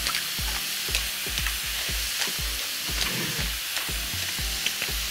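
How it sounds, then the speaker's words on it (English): Ground beef hisses and sizzles in a hot frying pan, a loud steady fry broken by regular scraping strokes of a stirring utensil, close and with no talking. "I'm gonna add the beef."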